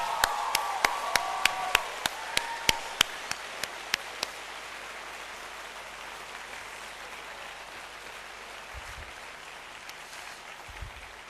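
Applause at a Singapore Polytechnic graduation ceremony opens with a few distinct, spaced claps, then settles into a steady, dense wash of clapping from a large crowd that carries on evenly to the end.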